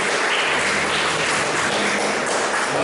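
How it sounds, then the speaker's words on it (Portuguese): Applause fills a Pentecost church service: a dense, continuous wash of many hands clapping together at an even level, with no talking. "Vamos aplaudir essa palavra do Senhor."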